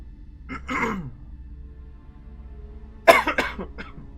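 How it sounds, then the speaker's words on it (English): A person coughs close to the microphone, a single rough cough followed a couple of seconds later by a burst of several quick coughs, with quiet background between. "I apologize for the coughing."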